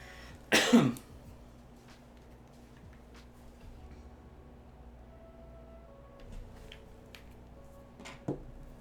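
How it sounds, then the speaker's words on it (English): A single short burst of coughing from a person with acid reflux, close and fairly loud, followed by a long quiet stretch of faint room noise and small handling sounds. "why am I coughing?"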